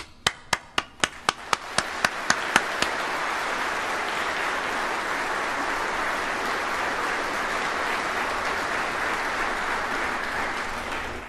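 Applause from an audience at a formal National Guard ceremony, beginning with about a dozen sharp, evenly spaced claps and swelling into steady, dense clapping from many hands that fills the room for several seconds before fading.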